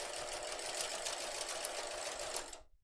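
A sewing machine runs in one steady, close burst while sewing a hair scrunchie, whirring continuously before stopping abruptly at the end.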